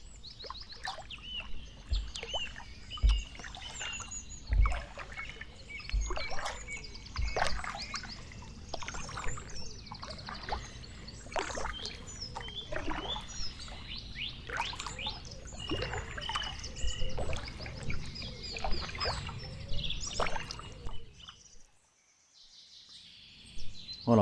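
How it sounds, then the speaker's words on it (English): Birds sing steadily on a riverbank while a kayak drifts with the paddle down, the calls lively, overlapping and moderately close, over soft water trickles and light lapping against the hull, ending in a brief near-silent lull. "listen to the bird song."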